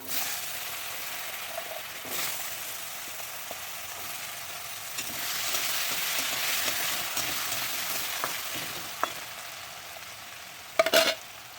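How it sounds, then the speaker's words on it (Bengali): Potatoes frying in a pan with bay leaf and cumin, a continuous hissing sizzle that swells in the middle, with occasional scrapes and a brief burst of clatter near the end, no voices. "আলুগুলো ভেজে নেব"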